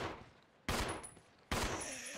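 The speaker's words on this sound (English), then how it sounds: "that was 3 shots at chest height" Two sharp, loud gunshot bursts from Resident Evil 0 HD, about a second apart, each ringing briefly before fading, with no talking over them.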